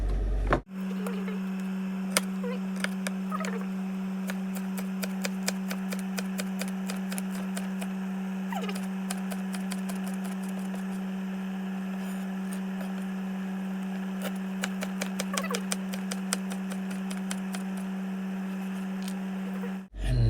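Quick runs of knife strokes chopping vegetables tap against a cutting board in uneven bursts, close up, over a steady low electrical hum.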